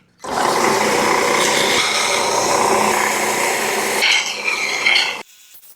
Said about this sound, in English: we're going to take these pieces and round off the edges with the belt sander